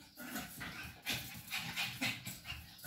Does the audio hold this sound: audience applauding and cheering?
no